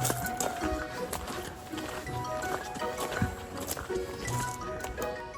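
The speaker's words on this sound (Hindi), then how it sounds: "फॉरेस्ट में चलते चलते एक गधा मिला बीच में" A donkey walks through a forest, its hooves thudding and clopping irregularly on the ground amid rustling, close by and moderately faint.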